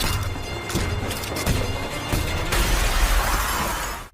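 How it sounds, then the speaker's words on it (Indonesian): A glass train door shatters suddenly in a zombie film scene aboard a train, a loud crash followed by scattering shards and low booming thuds, with a heavy rumble building toward the end. "tidak berhasil karena pintu kacanya tiba-tiba pecah."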